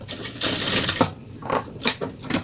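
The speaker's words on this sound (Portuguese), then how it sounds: "Vou costurar essa pontinha segurando esse elástico" A sewing machine stitching the elastic ends onto a fabric turban headband, running in short bursts of rapid whirring stitches separated by brief pauses, close and fairly loud.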